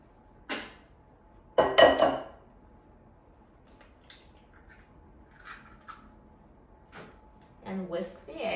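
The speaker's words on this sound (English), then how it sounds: "So let's crack 2 eggs." Two eggs cracked into a bowl in a home kitchen while baking cookies, with a sharp tap and a longer crack-and-drop cluster, followed by faint clinks and a final clatter of handling.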